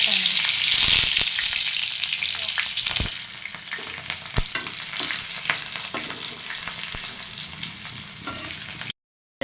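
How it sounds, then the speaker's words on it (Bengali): Nigella seeds and green chilies crackle in hot oil, a loud sizzle with scattered sharp pops and spatters that slowly eases before the sound cuts off. "এখন তেলের মধ্যে দিয়ে দিব কালো জিরে"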